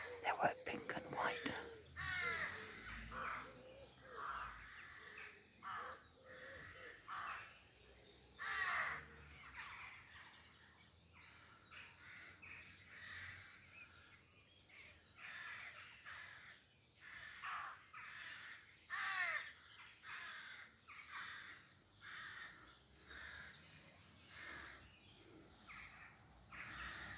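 Rooks call at 5am near Pulford, Chester, Cheshire, a scattered chorus of rough caws and croaks repeating irregularly from several birds at varying distances, with fainter chirps of other birds mixed in over a quiet morning backdrop.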